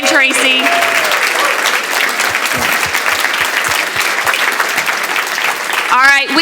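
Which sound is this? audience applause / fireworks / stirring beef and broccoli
audience applause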